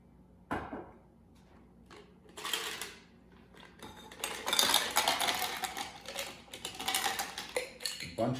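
Ice cubes go into a mixing glass for a Manhattan made with rye and vermouth, giving a scattered run of clinks and rattles that grows into a dense, clattering tumble.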